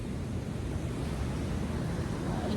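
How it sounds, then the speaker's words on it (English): Ocean surf rolls in at Will Rogers beach in California, a steady, unbroken wash of breaking waves and wind that holds at an even loudness throughout, with no voices. "That's Cali beach water."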